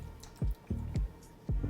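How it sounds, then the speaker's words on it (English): Cream poured from a container into a bowl while making panettone bread pudding, heard as a few soft, low glugging plops in an uneven rhythm, close and fairly quiet. "So we're gonna start by pouring our cream into the bowl."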